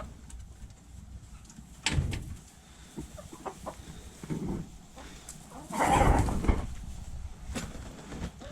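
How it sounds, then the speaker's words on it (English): Chickens of a few different breeds cluck intermittently in a muddy farmyard, with scattered bursts and a louder flurry of activity, alongside occasional bumps and rustling. "I got a few different breeds of chickens."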